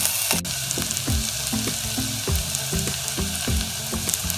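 Ingredients for ragda chaat fry in a pan with a loud, continuous sizzle, joined by a rapid series of utensil taps and scrapes as they are stirred.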